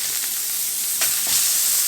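Burger patty sizzling on a Masienda comal just after being flipped, a steady hissing fry with a few brief crackles, close and continuous, with no talk.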